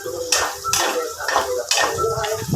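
A spoon scraping and clanking against a cooking pot of laing, taro leaves simmered in coconut milk, in four or five steady metallic strokes with a soft sizzle beneath.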